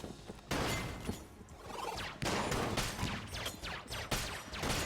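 Rapid bursts of blasts and crashing impacts from the video game Enter the Gungeon, loud and dense, with sharp hits repeating every second or so.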